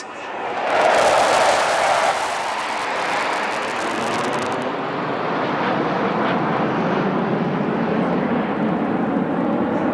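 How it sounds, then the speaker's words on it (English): A Sukhoi 30 MKI fighter jet roars past in a low-level aerobatic display at an Indian Air Force air show over Chennai's Marina Beach, a loud, sustained jet rumble that swells early on and then holds steady. "You are now about to witness a low-level aerobatic display by the Sukhoi 30 MKI"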